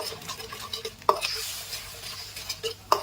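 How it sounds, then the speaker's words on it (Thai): Shrimp chu chee curry sauce with oyster sauce, light soy sauce, seasoning sauce and white sugar is stir-fried in a pan, giving a soft sizzle under scraping spatula strokes and sharp metallic taps against the pan. "แล้วเราก็ผัดให้ส่วนผสมของเราละลายเข้ากัน"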